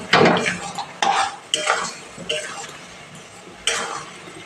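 Sugarcane jaggery is stirred in a pan over a high gas flame for a sweet-sour hog plum pickle, with about five close, distinct scraping strokes and a soft sizzle in between.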